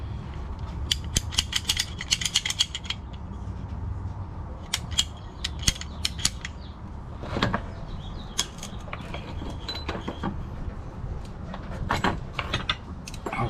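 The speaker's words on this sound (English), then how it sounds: "A subscriber dropped by to give me this hose cutter, and we're gonna find out if this thing cuts through stainless or not." A handheld hose cutter working through braided stainless steel hose, giving repeated sharp metallic clicks and ratcheting snaps in bursts over a steady background hum, close and clear, with no talking.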